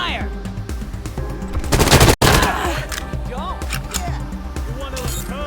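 Video game gunfire: a dense burst of rapid shots around the middle, among other game effects and voices speaking before and after.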